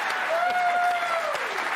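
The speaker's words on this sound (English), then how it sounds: "Thank you for cheering our first responders." A large crowd at a Trump rally in the Bronx cheers and applauds in a steady, dense roar that fills the whole stretch, with a sustained whistle rising above it.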